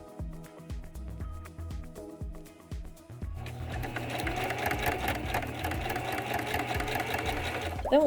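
A home sewing machine runs steadily while stitching a seam on a deerstalker hat, its motor hum and rapid needle rhythm continuing close and loud, starting off more gently and then running faster.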